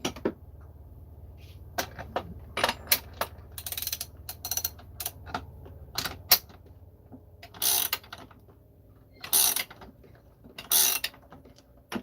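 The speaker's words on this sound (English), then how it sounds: "this adapter is now just pulling the crank through the bearing and only putting pressure on the inner race" An adapter pulling a crankshaft through its bearing into a 272 crankcase, giving scattered mechanical clicks, creaks and ratcheting turns, with a few louder grinding bursts over a low steady hum, close by and with no talk.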